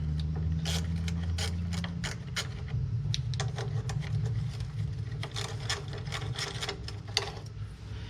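Rapid ratchet clicks undoing 8mm cover bolts on a Mack truck's ISL9 Cummins engine, coming in repeated bursts over a steady low engine or machinery hum, with no talking.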